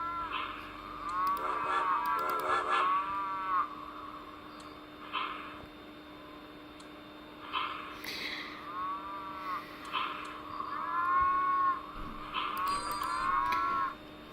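Cattle moo repeatedly in the 3D Ultra Lionel Traintown train park game, several drawn-out lowing calls in irregular bursts over a steady faint background hum.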